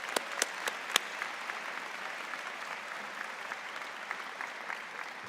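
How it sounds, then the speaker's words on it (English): Steady applause from a convocation audience at a spring graduation ceremony, broad and sustained throughout, with a few louder individual claps standing out near the start. "Let's have a round of applause for that."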